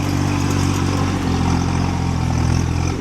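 Small Kubota tractor engine pulling a cultivator through sugarcane rows, a steady mid-pitched running drone with some clatter, close and continuous.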